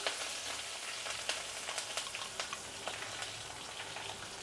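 Cashews, green chillies and asafoetida crackling in a hot tempering for pongal, a faint continuous sizzle with fine popping specks like light rain, close and soft.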